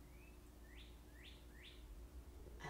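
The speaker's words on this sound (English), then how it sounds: "I love this bird. She's there every morning." A bird chirps outdoors in the morning, giving a faint whistle and then three clear rising calls at an even pace, soft and somewhat distant over low background hum, with a brief rustle at the end.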